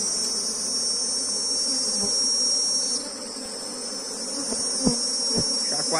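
Honeybees hum and buzz steadily around an opened hive as a frame is lifted and inspected, with a few soft knocks and handling sounds beneath the drone.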